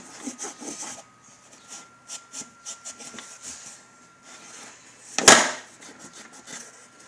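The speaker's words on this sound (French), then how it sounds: "Je frotte sur les côtés." A finger rubs dust off the sides of a horse grooming box in short, soft scraping strokes, repeated in a loose rhythm, with one louder sharp knock near the end.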